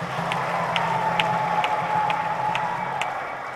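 Applause from a Catholic parish congregation in Kinyerezi, Dar es Salaam, welcoming a religious leader: a steady, loud wash of clapping from many hands that carries on evenly, with no voices over it.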